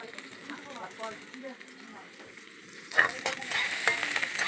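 Garlic fries in hot oil with a soft sizzle under a voice talking, then a louder burst of crackling and stirring scrapes near the end.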